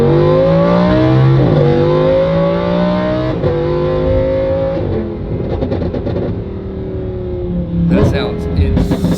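Lamborghini Huracan engine revving hard on a launch-control run, with rising pitched sweeps broken by sharp gear-change cuts and crackling pops near the end, loud and close.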